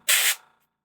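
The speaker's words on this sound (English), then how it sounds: "Now I'm just spraying air at it" Airbrush blowing a single short burst of air at a painted miniature, a close, bright hiss lasting about a quarter second before trailing off into silence.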